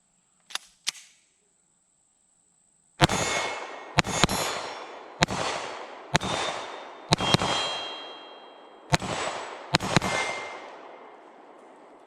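Sig P365 X Macro comp 9mm pistol fired outdoors: two faint clicks, then a pause and seven sharp, loud shots with ringing tails, spaced roughly one per second and some in quick pairs.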